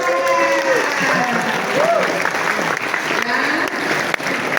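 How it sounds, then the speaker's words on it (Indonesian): Applause from a seated audience of cadets at an information session at a maritime polytechnic in Banten, a steady, loud clapping that runs the whole time with no break. "Tepuk tangan."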